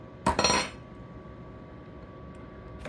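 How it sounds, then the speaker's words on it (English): A metal spoon clinks against dishes in a kitchen, a quick cluster of bright close clatters at the start, then quiet room hum with a faint tap at the end. "Let's get this spoon out of here."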